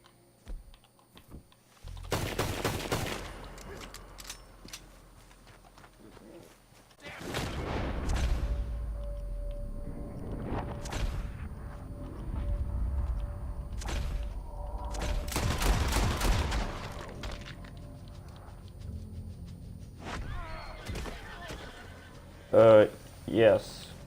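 Pistol gunfire in Red Dead Redemption 2, several loud clusters of quick shots separated by quieter gaps, with someone talking across much of the stretch.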